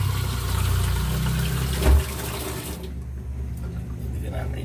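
Water poured into a soup pot on the stove makes a steady broadband rush for a few seconds, swells briefly with a splash, then cuts off into quiet room noise.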